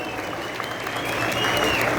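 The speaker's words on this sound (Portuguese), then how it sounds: "Aplausos bem forte, esse pessoal lindo" Loud audience applause fills the room at a gaúcho fandango dance-academy graduation at a CTG, a steady wash of clapping with some crowd voices mixed in.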